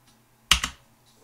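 A couple of crisp keystrokes on a computer keyboard, two quick taps close together, near and fairly loud against a quiet room.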